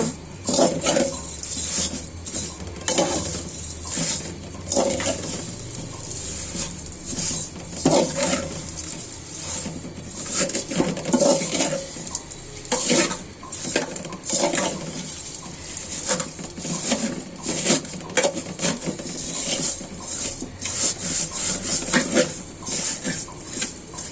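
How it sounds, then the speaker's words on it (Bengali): Vermicelli being stir-fried in oil for a sweet semai dish, with repeated close clinks and scrapes of a utensil against the pan over a low sizzle, continuing in an irregular rhythm. "সেমাইটা এখন ভেজে নিব"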